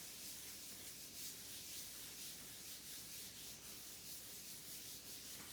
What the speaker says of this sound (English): I'm going to take my piece of paper, fold it back over and rub, rub, rub.